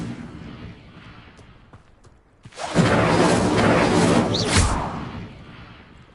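An Incendio fire spell is cast in a Harry Potter video game, a quiet stretch broken by a sudden loud whooshing burst of roaring flame that swells for about two seconds then fades away, no talking.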